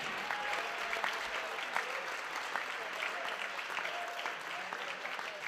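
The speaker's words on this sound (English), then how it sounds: "Please join in a round of applause in the recognition again of our 3 seniors, Callum Backer, Brady Feather, and Cole Devo" Steady applause from a gym crowd honoring senior players at a boys basketball game, dense continuous clapping at an even level with faint scattered voices beneath.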